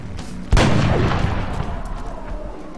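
A sniper rifle fires once in the video game XCOM: Long War, a single loud close boom with a long rumbling decay.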